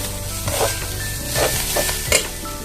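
Dry urad dal and lentils sizzle and rattle in a pan as a utensil stirs and scrapes in several strokes, with one sharper clink near the end.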